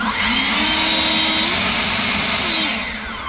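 An EGO Power+ LB5800 battery leaf blower runs close and loud, a steady rushing roar with a high motor whine that holds level throughout and eases slightly at the end.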